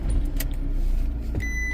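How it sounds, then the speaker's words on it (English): A car engine cranks and starts, then keeps up a steady low idle rumble with a short sharp transient near the end, close to the microphone. "Tap to confirm and start the vehicle."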